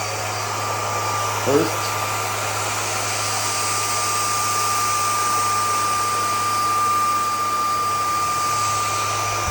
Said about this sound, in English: let's do a side-by-side comparison of vacuuming